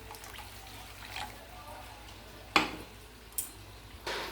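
Rinse water from a mixer jar poured into a pot of fish curry broth: a low, quiet trickle with a few sharp clinks of the jar against the pot.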